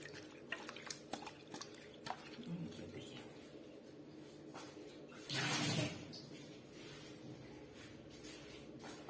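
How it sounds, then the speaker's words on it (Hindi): Leaves being washed by rubbing them in water give soft splashes and drips, building to one louder swishing burst midway. "अच्छे से धो लें मसल मसल के।"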